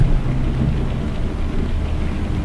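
Thunder rolling during a storm while driving in Euro Truck Simulator 2 with Promods on Iceland's south coast, a continuous low heavy rumble with rain-like hiss throughout, loud and close, without talk.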